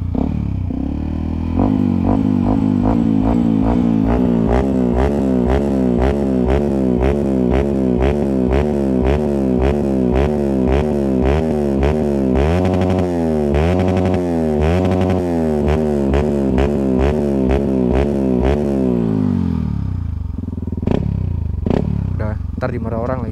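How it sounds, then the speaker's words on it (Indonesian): Yamaha WR155R supermoto exhaust revving up close, a loud steady engine drone climbing and falling through repeated throttle blips before dropping to idle pops at the end, with no talk over it. "Kita dengerin suara knalpot."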